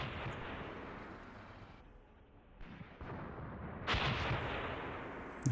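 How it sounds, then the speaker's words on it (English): Tank cannon fire in the tank battle game Graviteam Tactics: Predators in the Mist 2, a rumbling low boom with sustained rolling echo, then a sharper, louder blast near the end, heard alone. "I'm shooting at it anyway."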